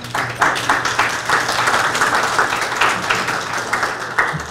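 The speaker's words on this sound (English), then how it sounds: "Thank you for that applause" Audience applause at an evening lecture on Christian faith and LGBT experience: a steady patter of many hands clapping together for several seconds, fairly close and unbroken.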